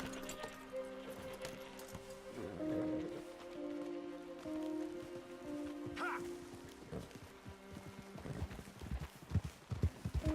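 Horses walk with clip-clopping hooves in Red Dead Redemption 2, soft rhythmic hoof falls that grow busier toward the end, mixed with background ambience and a faint murmur of speech.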